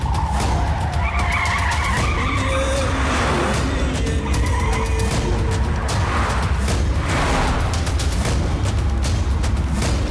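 Tyres skid and screech through a car chase in a South Indian action film dubbed in Hindi, loud and continuous for about ten seconds with engine roar and bursts of impact noise, no talking.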